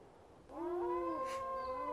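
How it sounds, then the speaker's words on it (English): A gray wolf howls a long, rising then steady tonal call, clear and fairly near, sustained for over a second after a quiet start. "He howls to keep our pack together."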